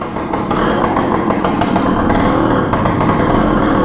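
A 1974 Suzuki TS185 motorcycle engine runs steadily nearby, a loud continuous two-stroke drone with a dense buzzing texture and slight fluctuations, no speech over it.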